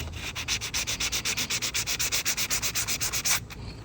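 Rapid back-and-forth sanding strokes on the wooden surface of a rocking chair being smoothed and feathered around a loose crack, a steady rhythmic rasp of about twenty close, even passes that stops just before the end.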